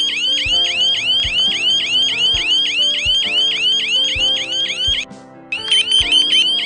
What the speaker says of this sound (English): Natural gas detector.